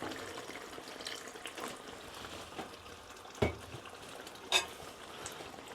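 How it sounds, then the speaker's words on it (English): Water poured into a pan of vindaloo curry, a faint wet splashing and bubbling with a few sharper clinks of utensil against the pan, quiet and close. "I'm going to add a little bit more water."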